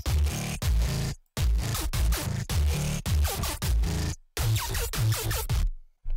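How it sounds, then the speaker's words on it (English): An 808 drum pattern with booming sub bass hits and a counter melody plays in short punchy bursts with brief gaps, loud and close with no talking. "that's the whole 808 pattern basically"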